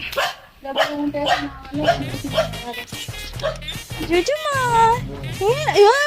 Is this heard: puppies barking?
yes